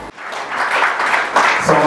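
Applause from an audience at a management retreat, a brief burst of clapping that builds and grows louder over about two seconds.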